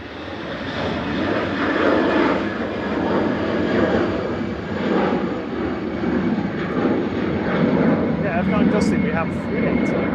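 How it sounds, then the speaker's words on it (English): An easyJet airliner rolling past at Manchester Airport gives a steady, loud engine roar that swells and eases slightly throughout, with people talking over it. "there is an EasyJet going past."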